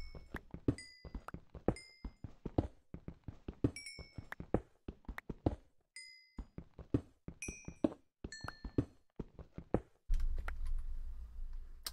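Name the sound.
computer keyboard typing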